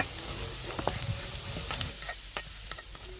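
Spices sizzle and crackle continuously in hot oil in a pan for tempering during village cooking, with scattered stirring clicks and scrapes, close and fairly loud.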